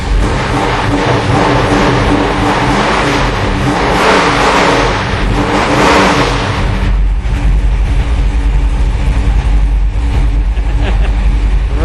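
The powerful V8 engine of a 1971 Baldwin Motion Super Camaro street car revs hard and loud, rising and falling several times before settling into a deep, rumbling idle close by.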